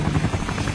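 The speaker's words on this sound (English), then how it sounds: "get a load of that fancy chopper up there" Cartoon helicopter flying overhead, a loud, close, steady rotor chop with a pulsing beat that holds evenly for the whole moment, with no talk over it.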